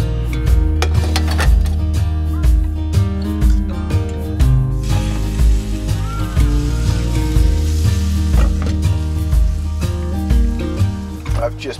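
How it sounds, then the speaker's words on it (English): Salmon and char fillets sizzle and fry in butter with salt, pepper and garlic in pans on low heat at a remote campground, a steady close crackle broken by occasional utensil scrapes and clinks. "Just put those in these pans, put them on low, added just a little salt and pepper and garlic, what we had, and some butter"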